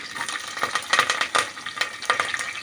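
Curry leaves and green chillies crackle and sizzle in hot oil in a pan while tempering for a potato and pea curry, a dense, steady hiss broken by sharper spitting pops close by, with no voices.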